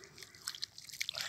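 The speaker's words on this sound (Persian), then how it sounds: "چند آب بری تو دستام" Water poured onto hands during washing outdoors on a hilltop near a village, faint irregular drips and splashes trickling in quick uneven bursts, quiet and close.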